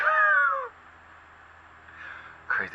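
A house cat meows indoors: a loud drawn-out meow at the start, a quieter one near the two-second mark, and a short sharp meow at the end.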